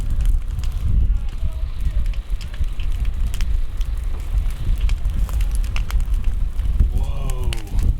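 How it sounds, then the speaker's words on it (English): Wildfire burning a garage beside a house in Boulder, heard as steady crackling roar mixed with strong wind buffeting the microphone, while people speak nearby throughout. "We've got a garage on fire right here."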